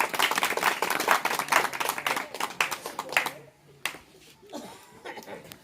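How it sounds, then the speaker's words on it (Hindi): A crowd claps at an SP and SBSP political rally on the Haldharpur ground. Dense, loud clapping runs for about three seconds, then thins into scattered claps under voices. "जोरदार ताली बजाइए"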